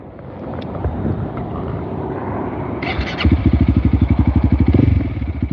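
Honda CRF300 dual-sport motorcycle starts up partway through, first a broadband rumble with wind, then a steady, close, loud single-cylinder idle with rapid even pulses.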